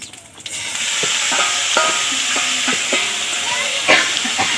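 Chopped taro flower goes into a hot pan and sets off a loud, steady broadband sizzle, with a few scraping stirs on top.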